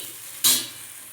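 Okra (bhindi) roasting on a hot griddle, a single short sizzling hiss that flares up and quickly dies back, with a quiet background on either side.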